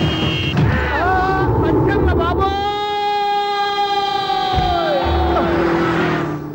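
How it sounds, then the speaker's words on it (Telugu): A vehicle siren wails in place of a horn, a long steady tone with a rising and falling sweep, while several voices talk over it in a comedy scene. "సైరన్నే కొట్టాడు"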